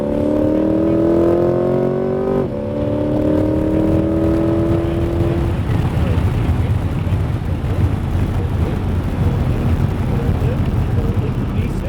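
A Corvette C8 Z51 on a race track pulls hard, its engine tone rising steadily through the gears. Then it settles into a loud, rough roar with wind rush, close and continuous.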